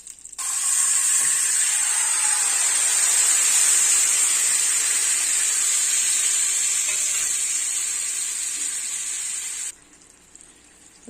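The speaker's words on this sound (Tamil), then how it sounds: "சட்னி கொதிக்கட்டும்" Green chilli chutney bubbles in a pan with a steady, loud sizzling hiss that runs unbroken for about nine seconds, then drops to a quieter hiss. No voices.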